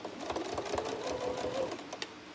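A domestic sewing machine stitching a trapunto cushion, a steady rapid mechanical whir with a fast rhythmic needle patter, heard close and alone.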